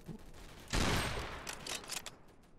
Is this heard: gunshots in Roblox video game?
yes